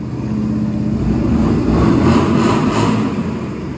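A 2013 Honda XL 125 Varadero motorcycle's engine runs close by, a loud steady rumbling idle that swells slightly midway, heard alone without talk.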